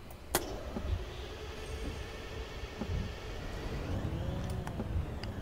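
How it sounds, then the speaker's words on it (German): A BR 612 diesel railcar engine starts in Train Sim World, heard from outside: a low rumble with a few clicks, then a rising engine tone that settles into a steady idle. "derzeit hört man das Starten und das Stoppen vom Motor nur so"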